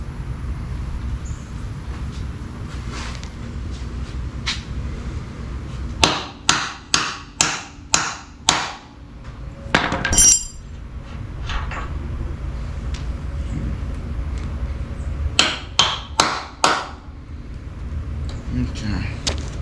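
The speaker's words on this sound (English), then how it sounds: "is when I go to knock this bolt through" A bolt is hammered through on a Dodge D100 axle, sharp metallic blows in two quick bursts of about six strikes each, near and loud, with a person talking around them.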